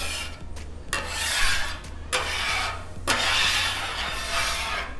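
A metal scraper spreads a thin coat of peanut oil across a hot Blackstone griddle, making loud, close, hissing scrapes in repeated long strokes over a steady low burner hum, with no talking.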